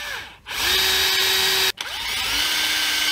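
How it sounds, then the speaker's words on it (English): A handheld power drill bores holes while a pickup winder is being motorized, whining loudly in two bursts with a brief pause between them as the bit spins up and bites. "And now I can use my drill"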